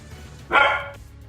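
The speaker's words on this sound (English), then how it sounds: "My dog barks" A single sharp, loud bark from a pet dog, close by and brief, rising out of a quiet room background with no talk during the bark.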